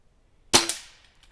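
A Weihrauch HW97K synthetic stainless .22 air rifle fires a single sharp shot, followed almost at once by a metallic ring as a metal target is hit, then a short ringing decay.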